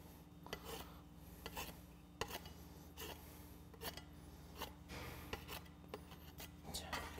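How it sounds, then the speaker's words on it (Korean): A pastry scraper cuts the edges of apple pie dough, giving a run of soft, close rasping scrapes and light taps in an irregular rhythm over a quiet kitchen background. "스크래퍼 이용하셔서 끝에만 잘라주겠습니다"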